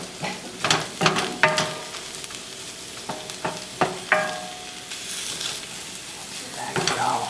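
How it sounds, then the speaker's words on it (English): Garlic and mushrooms sizzle in a frying pan, a steady close hiss broken by sharp clacks and scrapes of a utensil stirring against the pan. "Okay, these guys are starting to sizzle. So we're going to start adding our mushrooms right there."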